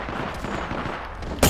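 Gunfire from Apex Legends crackles under a busy game soundscape, ending in a sharp, loud burst of shots.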